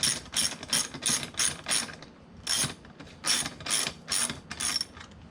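Ratchet tightening an exhaust clamp on a Kawasaki KLX250 fitted with an FMF Q4 and Megabomb system: close, loud bursts of rapid clicking, about nine strokes in a steady rhythm, alone.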